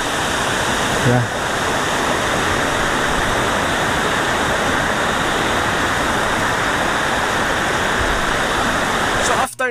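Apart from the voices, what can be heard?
Dumaging Waterfalls, Jasaan, Misamis Oriental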